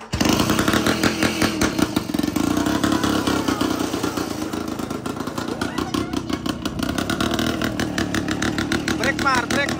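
A farm tractor engine being kick-started and then running with a loud rough chugging throb that speeds into rapid pulsing, heard up close while people talk.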